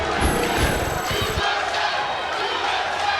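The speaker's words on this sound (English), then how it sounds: "understandably partisan crowd here, the chants of USA coming in" A partisan crowd at a Karate Combat fight chants USA, a loud rhythmic roar of many voices that fills the arena continuously, with sharper bursts in the first second and a steady crowd din after.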